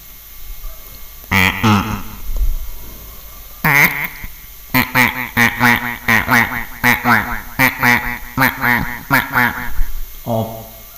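A voice imitates a duck, giving a string of nasal quacks in quick rhythmic bursts, loud and close, with a few separate calls before the run.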